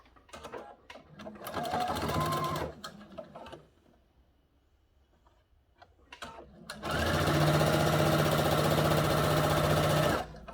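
A sewing machine stitching a quarter-inch seam allowance on a cathedral window quilt panel, two runs of steady rapid mechanical whirring, the second longer and louder, close up with a quiet pause between.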